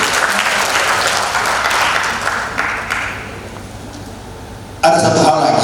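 A crowd at an economic outlook talk applauds steadily for several seconds, the clapping fading slightly before a louder burst of claps and voices at the end.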